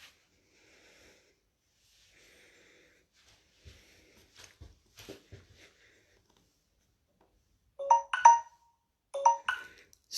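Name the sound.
Facebook notification sound on a phone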